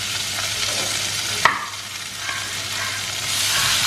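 Cut beans sautéing in coconut oil with mustard seeds, urad dal and curry leaves, a steady close sizzle broken by one sharp scrape of a spoon against the pan.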